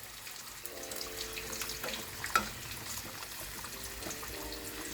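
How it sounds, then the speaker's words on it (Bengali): Bati posto with hilsa fish cooking in a pan over a low gas flame, a continuous gentle bubbling sizzle with a single clear scrape of a spoon partway through. "চলুন বাটি পোস্তটা একটু নেড়ে দিই।"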